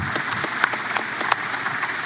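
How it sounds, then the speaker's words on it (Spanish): Workshop audience at a rural roads technical session applauds in a steady, even wash of clapping with a few sharper individual claps standing out, moderately loud throughout. "Les doy un aplauso"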